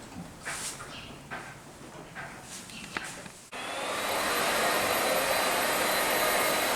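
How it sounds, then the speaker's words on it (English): Leaf blowers clean out a horse barn during evening stall chores. Softer broadband noise with scattered knocks gives way after a sharp cut to a loud, steady, close roaring whoosh that holds to the end. "We utilise blowers to keep the barn clean and tidy"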